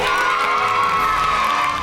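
A crowd of children cheers and shouts at a political rally, a dense continuous burst of voices at full loudness with no pauses, close and filling the space.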